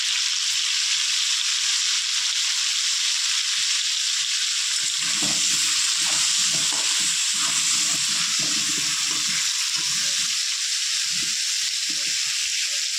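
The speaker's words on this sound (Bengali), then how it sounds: "এবার আলুটা হালকা ভেজে নেবো" Potato pieces seasoned with salt and turmeric sizzle while lightly frying in oil, a constant close hiss, with bursts of stirring and crackle through the middle.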